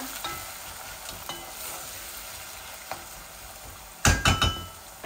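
Onions and garlic fry in a pan with a steady, even sizzle, then a few sharp stirring clinks against the pan near the end.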